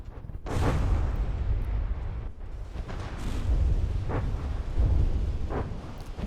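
Missiles launched at a sinking ship in the From the Depths game, a series of deep booming blasts and rumbling impacts spread over several seconds, loud and heavy with no speech.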